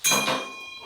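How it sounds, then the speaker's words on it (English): A stainless steel Turkish shaving lather bowl gives a single bright metallic ping that rings and fades within a second, close and clear. "If you ever wonder what that ping is, I'll show you now. This noise, I mean. It's only this Turkish lather bowl, stainless steel."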